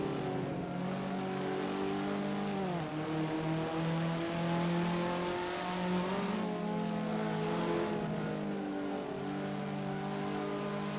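Caterham race car engines from the Assetto Corsa Caterham Academy series at Mugello drone loudly and steadily, pitch rising and falling as they rev through the gears, with several cars running close together.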